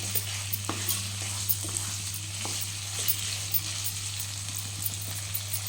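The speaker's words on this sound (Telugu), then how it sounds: "బాగా కలుపుకుందాం మంచిగా వేగాలి నూనెలోనే" Chicken fries in oil with a constant soft sizzle, occasional pops and spoon taps, and a low steady hum underneath.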